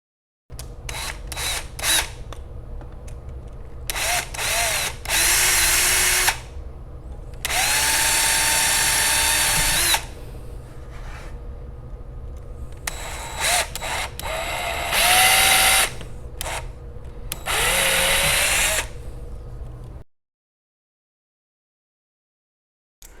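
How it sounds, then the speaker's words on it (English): Power drill boring out the well plugs of a Quadrajet carburetor, several loud bursts of high whining drilling separated by short pauses and clicks, nearby, then a stop into silence. "I'm going to start drilling these out"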